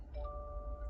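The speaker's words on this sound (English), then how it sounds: "And the car is chiming at me, which is normal." A 2023 Subaru Forester's soft electronic chime sounds as a steady tone over a low engine hum during key programming, fairly quiet and close.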